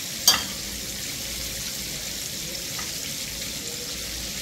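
Chicken frying in hot oil for homemade KFC-style fried chicken, a steady soft bubbling sizzle throughout with a single sharp clink near the start.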